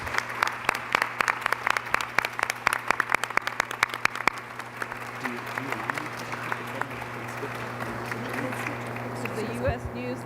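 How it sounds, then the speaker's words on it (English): Audience at a committee meeting applauds teachers, with sharp individual claps packed densely for about four seconds before thinning out, while voices murmur and talk continues underneath. "I want to do one last round of applause for all these champions in the back"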